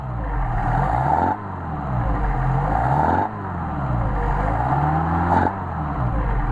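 Mercedes 190SL engine running on Solex carburetors, a close, steady idle with repeated revving swells rising and falling in waves, with no talking.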